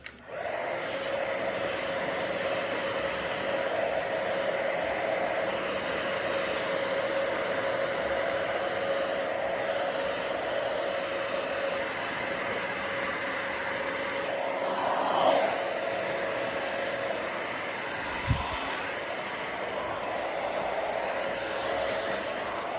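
A hair dryer rough dries hair, giving a steady, close, continuous blowing whine that holds without pause, alone with no talking.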